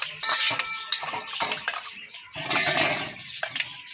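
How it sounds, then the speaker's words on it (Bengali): Puja utensils being rinsed with water, with splashing, clinking metal and pouring in uneven bursts, close and fairly loud, no voices. "দেখো এটা জল দিয়ে ধুয়ে নিয়েছি।"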